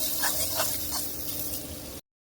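Onion frying in a pan for a vegetarian dish, a steady soft sizzle and hiss that runs unbroken for two seconds before cutting off.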